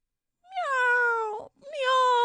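A voice imitates cats meowing in a storybook reading, two long drawn-out mews in quick succession, close and clear.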